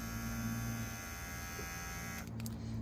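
A Wahl Bravura pet clipper runs with a steady electric hum and buzz, close and even, with a brief change in tone near the end.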